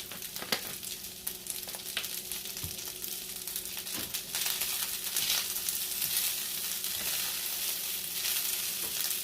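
Spam fried rice fries in a pan with garlic, a steady close sizzle and crackle running throughout with occasional stirring scrapes, alone without talk.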